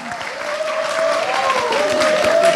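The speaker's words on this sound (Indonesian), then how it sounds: "Kita boleh kasih tepuk tangan dulu untuk mereka" A church congregation claps for a couple called up front, the applause rising and carrying on while a sustained tone and some voices sound faintly underneath.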